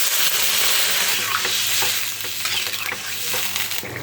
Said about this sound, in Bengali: কষানো হয়ে গেছে, এবার জল দিয়ে দিলাম।